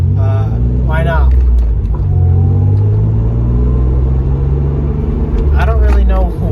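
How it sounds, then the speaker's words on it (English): A 1995 Toyota Celica drives along, its engine a steady low rumble inside the cabin, while someone talks over it the whole time. "I'm just driving around my Celica"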